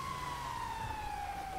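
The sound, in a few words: emergency vehicle sirens in GTA 5 video game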